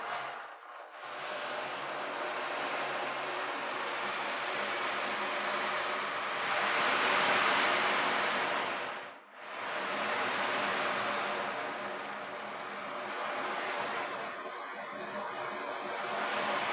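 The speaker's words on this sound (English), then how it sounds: "This is an ocean drum" An ocean drum, a frame drum with loose beads inside, is tilted slowly to make a steady hiss like surf washing in and out, swelling and fading with one brief drop near the middle, with no talking over it.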